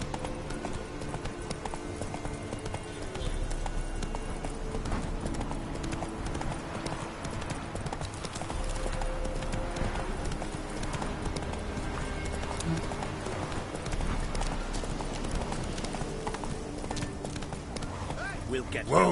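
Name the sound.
horse Roach galloping hoofbeats in The Witcher 3 video game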